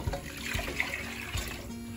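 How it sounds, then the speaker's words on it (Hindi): Water is poured into soaked toor dal, giving a soft, close, continuous trickling splash with a few small gurgles, quiet and without speech. "हम इसमें पानी डालेंगे।"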